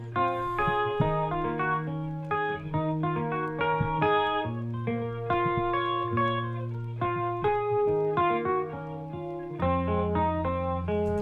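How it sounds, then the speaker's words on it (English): A vintage-style guitar sample treated with chorus, delay and vinyl effects plays a steady chordal melody with clear repeated notes. It runs continuously at moderate loudness with no talking. "So that was the guitar."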